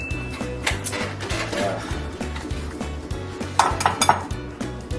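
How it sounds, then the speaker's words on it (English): Cracked eggs are stirred in a bowl with quick, rhythmic clinks and scrapes of a utensil, close and steady, over a low humming background. "First, we're going to crack the eggs and stir them."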